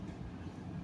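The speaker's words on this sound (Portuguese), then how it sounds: "Talvez aqui andando de metrô," Inside a moving metro train in São Paulo's east zone, a low, steady rumble of wheels and carriage fills the space, faint and continuous, with a hint of rhythmic rail clatter.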